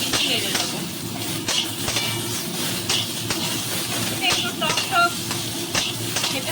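Potato, tomato and green chillies hiss and sizzle steadily in a hot pan, a close continuous frying crackle with a few brief sharper spits, while a voice talks over it.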